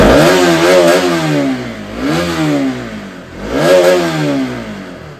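A motorcycle engine revs up and down loudly and close while warming up, with three surging throttle blips over a steady idle.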